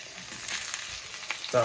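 Salmon fillet seared in a hot pan just after flipping, giving a steady close sizzle and frying hiss with a brief louder crackle near the end and no talking.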